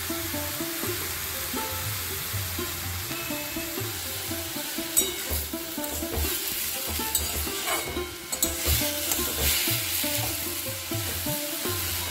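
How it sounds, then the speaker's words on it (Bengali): Moringa flowers frying with salt, dry chili and turmeric in a pan, a steady close sizzle with repeated stirring scrapes and a few sharper clatters of the spatula partway through. "নুন, শুকনো লঙ্কা আর একটু হলুদ দিয়ে এটা ভাজা হবে।"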